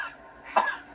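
A single short cough, close and fairly clear, after a brief breathy onset.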